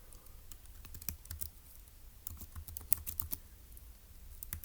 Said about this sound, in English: So I'm going to type it up